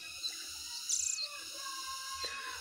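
Birdsong plays through a speaker, with short chirps and one brief trilled burst, fairly faint over a steady background hiss and insect-like buzzing.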